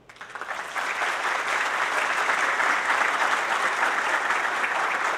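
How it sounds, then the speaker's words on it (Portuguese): An audience at a formal ceremony breaks into sustained applause for the organizing team, building quickly in the first second and then holding a steady, dense roar of clapping throughout. "eu queria muito que vocês dessem uma salva de palmas para essa equipe que montou isso aqui"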